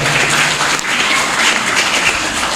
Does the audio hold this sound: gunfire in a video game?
no